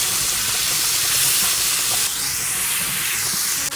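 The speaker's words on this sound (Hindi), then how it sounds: "कीमे को इसमें अच्छी तरह भूनना है" Minced meat frying in a pan for lasagna, a loud, steady sizzling hiss that runs continuously with no pauses and cuts off abruptly at the end.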